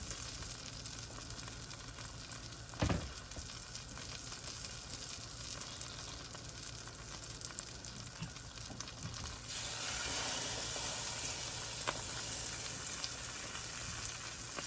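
Butter frying in a pan for French toast with turkey bacon, a steady close sizzle that grows louder and denser partway through, with no talk.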